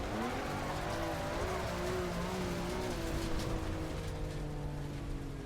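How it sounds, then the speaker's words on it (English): Race car engine in ACC held at full throttle, a steady droning roar with slowly rising harmonic pitch as the rear tires spin, moderately loud and continuous. "We go full throttle and both rear tires spin a little bit."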